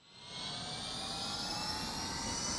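A jet engine roars at full throttle in the SimpleRockets2 game, a steady, loud, broad rush with a high whine that swells in over the first half-second and then holds constant, with no talk over it.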